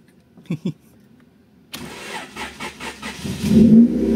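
A Honda Civic EG with a D15B engine and freshly fitted NGK spark plugs cranks briefly and catches, settling into a close, rough idle that rises slightly. Someone speaks softly before the start.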